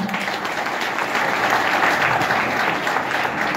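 An audience in a hall breaks into loud, sustained applause, a dense wash of clapping hands that stays strong from start to finish.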